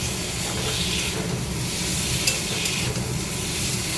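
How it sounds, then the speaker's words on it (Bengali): Spices sizzle and crackle steadily in oil in a pan, a continuous frying hiss with small pops, close by and without any voices. "একটু ভেজে নেই হালকা"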